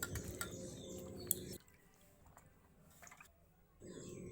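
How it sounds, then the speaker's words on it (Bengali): Peeled ridge gourd sloshed and rinsed in a bowl of water, giving soft splashing and wet squishing for about a second and a half, then faint drips and handling, and the washing sounds return at the end. "এবার জলের মধ্যে দিয়ে ভালো করে ধুয়ে তারপর তুলে নেব।"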